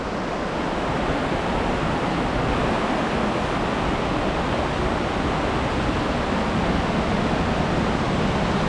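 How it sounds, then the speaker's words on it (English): Water rushing down rocks beside the Multnomah Falls trail makes a dense, continuous roar, steady and fairly loud with no breaks and no voices. "there's water coming down the rocks."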